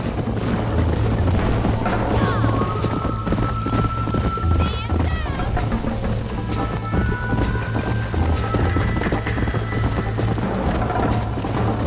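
Horses gallop in a steady clip-clop of hooves in a Red Dead Redemption race, close and continuous, with game music and a low hum underneath and voices talking over the top.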